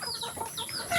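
Breeding-stock rooster giving short clucks close by, a brief burst of a few calls with no talk over it.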